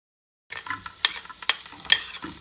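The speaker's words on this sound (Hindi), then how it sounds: "इनको हल्का सा 1-2 मिनट के लिए ही फ्राई करेंगे।" Vegetables fry in butter in a pan for bread pizza, a light sizzle that starts after a brief silence, with sharp spatula scrapes and taps recurring every half second or so.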